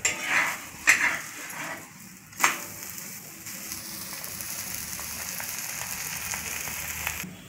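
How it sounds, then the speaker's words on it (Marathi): A cheese paratha cooks on a hot pan and is flipped over, with a few sharp utensil clinks and scrapes at the start, then a steady soft sizzle underneath, close and fairly quiet. "हे बघा, आता हे मी परतवून घेत आहे।"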